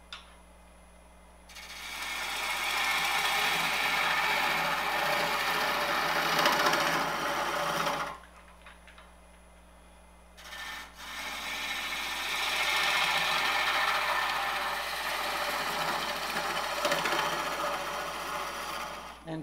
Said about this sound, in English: And for the shaping, I'm using a bowl gouge.